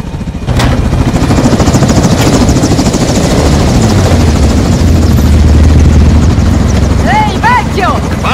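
Helicopter in the video game Call of Duty Modern Warfare 2, a steady loud rotor drone that fills the whole stretch under game dialogue and effects, with brief chirping bursts near the end.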